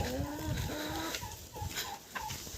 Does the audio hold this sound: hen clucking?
yes